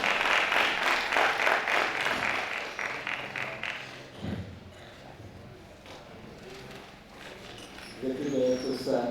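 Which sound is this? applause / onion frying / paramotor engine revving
applause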